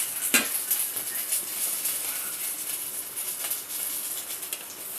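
Green chillies, urad dal, chana dal, cumin and mustard seeds frying in a little hot oil for tempering a mint chutney, giving a steady close sizzle with faint crackles and a utensil clink or two, and no voices.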